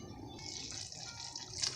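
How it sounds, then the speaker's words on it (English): Water gushes steadily from a cup into black bean sauce, a brief close splashing pour that swells slightly at the end. "Adding a cup of water,"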